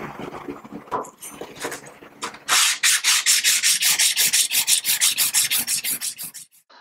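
Sandpaper worked by hand over the metal body of a vintage Sargent No. 400 series hand plane, starting with a few scattered rubs and then settling into a fast, steady back-and-forth scratching rhythm close by.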